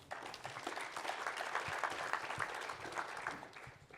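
An audience at a conservation summit applauds, a dense wash of many hands clapping at steady volume from start to finish, with no speech over it.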